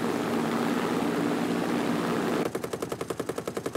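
A World War II fighter plane drones steadily in War Thunder, then its 7.7 mm machine guns cut in with a fast, even burst of rattling shots close up.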